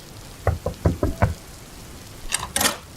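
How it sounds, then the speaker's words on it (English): Knocking on a house door at a driveway in the evening: a series of five close knocks in irregular rhythm, followed by a couple of brighter rattling taps near the end. "I pulled into his driveway and knocked on his door"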